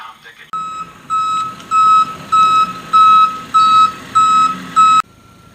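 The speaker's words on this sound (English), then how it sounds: "Here comes the truck." A delivery truck reverses with a loud, regular electronic beep repeating about seven times at an even rhythm over a low engine rumble.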